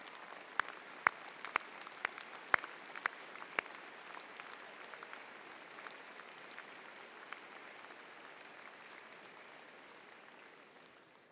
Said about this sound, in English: would the fathers and other family members of our graduates also stand to receive applause from those who are graduating